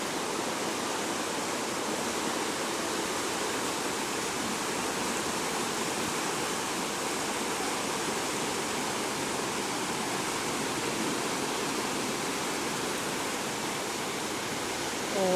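Strong floodwater rushes through the streets of Mae Sai in Thailand, a steady, dense roaring wash of flowing water that holds continuously and fairly loudly throughout.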